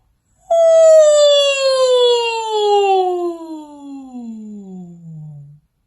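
A singer imitates a siren on an 'oo' vowel during a breath-support vocal exercise, one loud sustained tone that starts high and glides slowly downward for about five seconds, alone.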